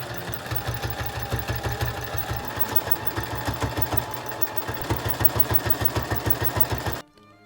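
A sewing machine stitches pants made from a quilted jacket, running at a fast, even rhythmic clatter for about seven seconds before stopping abruptly, close and alone.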